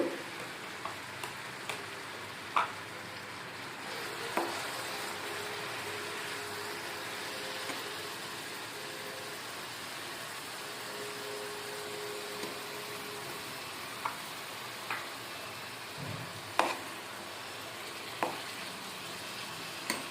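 Masala paste frying in oil in a pan for a small fish curry, a soft continuous sizzle broken by occasional light clicks of a spoon stirring, quiet and steady throughout.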